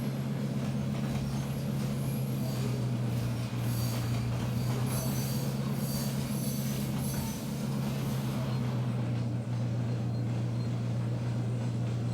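A train of empty railroad cars rolls along in a train simulator game, a steady low rumble of wheels and clattering cars with a sustained engine drone, continuous and fairly close throughout.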